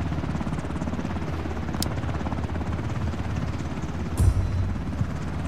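Helicopter in a video game: a steady, close rotor chop with continuous thumping throughout, plus a couple of brief sharp bursts over it.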